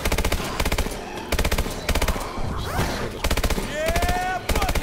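Rapid bursts of automatic gunfire from an orbital shot in the Advanced Warfare Exo Zombies video game, loud and close, firing in repeated volleys with short gaps. Shrill game creature noises rise between the bursts.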